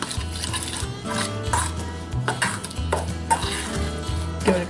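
Shredded mozzarella and pepper topping for Hasselback potatoes is stirred in a bowl, giving close scraping, clattering utensil sounds against the dish in a busy, continuous run without speech.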